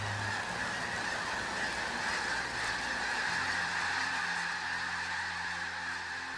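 A huge flock of geese honking continuously, a dense, loud chorus of overlapping calls with no pauses.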